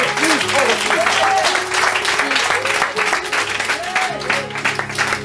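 A crowd at a church healing service applauds loudly and continuously, with sustained clapping filling the space while a voice speaks over it.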